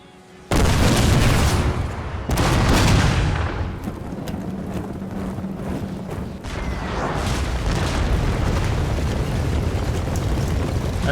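Musket volleys and cannon fire from a Napoleonic battle in Napoleon: Total War, a Prussian ambush: a loud sudden boom opens, a second heavy blast follows, then sustained rumbling gunfire fills the rest.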